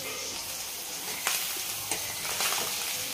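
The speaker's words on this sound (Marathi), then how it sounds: "तो भात टाकून घेते आणि परतून घ्यायचा आहे आपल्याला" Cooked cumin rice tossed and stir-fried in hot oil with curry leaves, a steady close sizzle broken by a few scraping stirs of the spatula.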